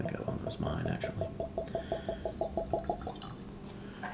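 Water trickles into a glass of Caol Ila Scotch whisky as a quick, even run of small close drips and plinks, roughly a dozen in about two seconds, then stops.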